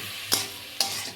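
Bottle gourd leaves with salt and turmeric are stirred in a frying pan, giving a soft sizzle and two sharp spatula scrapes about half a second apart, with no voices.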